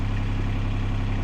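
An irrigation pump running steadily, just repaired after a loose part was tightened, gives a constant low mechanical hum with an even engine-like drone throughout, close and alone with no voices.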